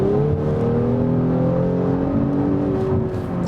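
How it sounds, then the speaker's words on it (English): An Audi S4 sedan with a V6 accelerates in D mode, giving a steady, loud engine drone whose pitch rises smoothly over a few seconds with a faint whir. "when I fall back a little bit and accelerate in D mode"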